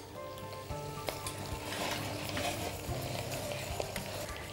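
Meat with spices, nutmeg and salt stirred in a hot pot, a steady loud sizzle with scraping stirs and occasional clinks, no talk.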